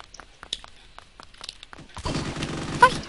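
Video game gunfire: after a stretch of faint scattered clicks, a sudden dense burst of rapid automatic shots erupts and rattles on to the end.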